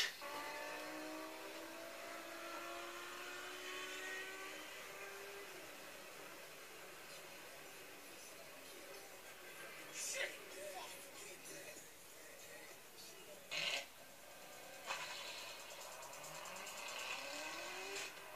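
Supercar engine revving during a crash, faint and distant with a steady rising whine and brief louder bursts, heard under excited talk and crowd noise.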